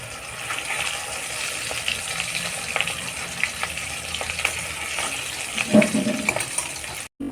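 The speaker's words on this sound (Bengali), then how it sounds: "কাঁকড়ের চপ ভাজা হয়ে গেছে দেখো কত সুন্দর" Stuffed spiny gourd (kakrol) chops deep-frying in hot oil, a steady dense sizzle and crackle filling the whole stretch up close, with occasional stirring noises and almost no talk.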